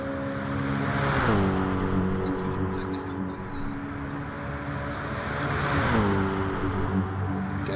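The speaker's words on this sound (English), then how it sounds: "Now he winds up the AMG V8." A Mercedes-AMG V8 race car in a racing video game winds up through the gears, with a loud, steady engine drone that drops in pitch on an upshift, climbs, and shifts again, while a commentator talks over it.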